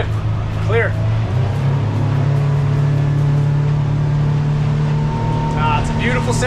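A fishing boat engine accelerates up on step during a salmon fishing trip, its loud steady roar rising with a droning hum underneath, while people talk briefly over it.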